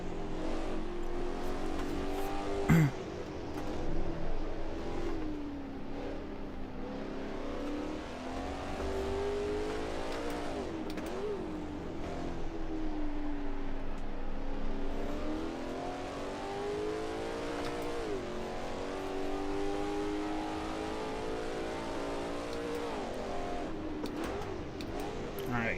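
Race car engine in the Assetto Corsa racing game, a steady drone rising and falling through gear changes for the whole stretch, with tire squeal in places and a voice talking over it.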